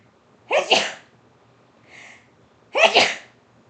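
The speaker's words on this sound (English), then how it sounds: "I'm going to sneeze" Two loud, close sneezes about two seconds apart, with a faint softer breathy sound between them, otherwise quiet.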